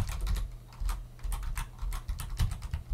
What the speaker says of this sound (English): we can also run this image now by just typing Docker run